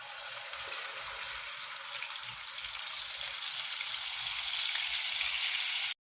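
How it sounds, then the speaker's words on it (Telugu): A ground paste added to oil with whole garam masala fries in a pan for a paneer curry, making a soft, even sizzle that swells slightly before cutting off. "ఈ పేస్ట్ బాగా వేగాలండి, బాగా వేయించుకున్నాం"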